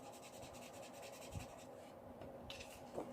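Spectrum Noir Tri Blend marker drawing across paper: a soft, continuous rubbing scratch with a few slightly firmer strokes, close and quiet, with no talk.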